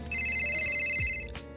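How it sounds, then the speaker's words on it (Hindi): A phone rings with a repeating electronic ringtone for an incoming call, loud and close, playing steadily before cutting off. "और एक दिन कनिका के फोन पर एक कॉल आता है।"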